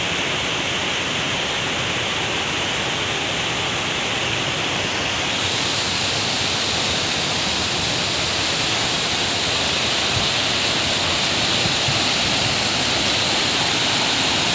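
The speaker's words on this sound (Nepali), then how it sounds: "यो रेसी खोला हो।" The Reshi river, swollen by heavy rain, rushes past in a loud, unbroken roar of turbulent water, close and steady throughout with no pauses or voices.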